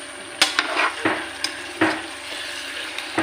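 Kuttanad-style chicken sizzles in a hot pan while a spoon stirs it, giving steady frying crackle under sharp scraping and clinking strokes at irregular intervals, close and with no talking.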